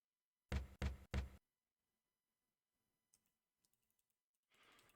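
Three firm knocks on a door in The Crimson Diamond video game, evenly spaced and close, followed by near silence broken only by a few faint clicks.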